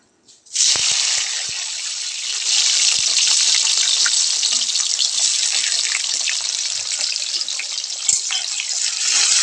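Chopped tomatoes hitting a hot pan for butter chicken, bursting into a bright, hissing sizzle that holds steady and loud with scattered small pops.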